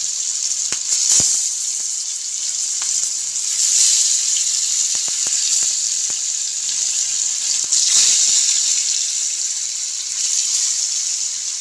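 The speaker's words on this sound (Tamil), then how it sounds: "வாங்க மீனை வச்சு பொரிச்சிக்கலாம்." Fish frying in plenty of hot oil on a stove, a steady bright sizzle with occasional sharper crackles and pops, loud and close throughout with no talking.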